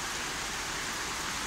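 Light rain falls on a balcony as a steady, even wash of soft patter and hiss, continuous and without talking.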